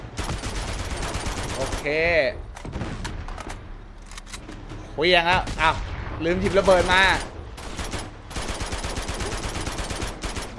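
Enemy gunfire from the Uncharted 2 video game rattles in fast, loud automatic bursts, broken by pauses where someone talks excitedly over it.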